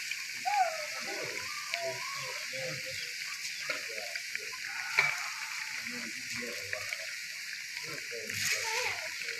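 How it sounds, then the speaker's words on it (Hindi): Bread kababs fry in a pan with a steady, fairly quiet sizzling hiss while a voice talks over it, with a few brief crackles and pops. "अच्छा कलर आने तक फ्राई कर लेंगे।"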